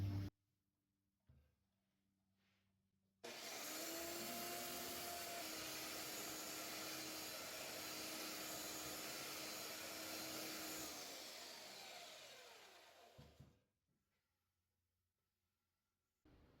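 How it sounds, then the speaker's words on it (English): Portable belt sander refining the edge of a 100-year-old oak table: after brief quiet, the motor starts abruptly and drones loudly and steadily for about ten seconds, then winds down and stops, near and without talk. "Now I use my portable belt sander to refine the edge."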